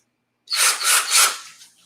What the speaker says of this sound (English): Snap my drill together.